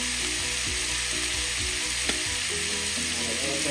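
Seasoned meat with adobo, black pepper and cumin for a Mexican torta sandwich sizzling steadily in a pan, a loud, even frying hiss with a single sharp clink midway.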